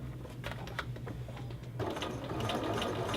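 Home sewing machine stitching a lapped zipper into fabric, a quiet motor whir with rapid needle ticks in short bursts, then a faster, steadier run of stitching that grows slightly louder.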